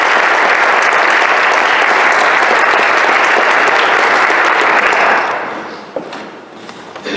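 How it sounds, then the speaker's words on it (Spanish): An audience at an evening museum lecture gives a strong, sustained round of applause for Javier Gómez Cervira. The dense clapping fills the room for about five seconds, then thins out and fades to a few scattered claps. "Les pido un fuerte aplauso para él."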